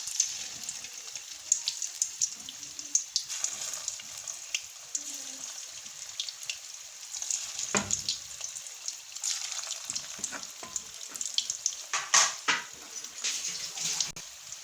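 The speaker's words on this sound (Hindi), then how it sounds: "अभी ये कोफ्ते फ्राई हो रहे हैं" Lauki kofta balls fry in hot oil over a medium flame, giving a continuous crackling sizzle with scattered pops and occasional clinks from a utensil, steady and close throughout.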